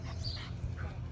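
Female German Shepherd giving soft, brief whimpers on a walk while she pulls on the lead, faint over a low rumble of background noise.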